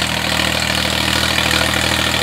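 A Swaraj 960 FE tractor with 16-inch tyres and power steering runs loudly up close, its diesel engine giving a steady, throbbing rumble without pause or speech.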